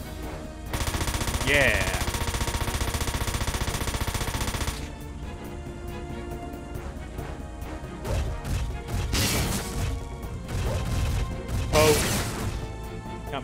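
Mech barrage in the strategy game Front Mission 4: a dense roar of rapid gunfire lasting several seconds, followed by scattered loud crashes and impacts, with a voice speaking briefly.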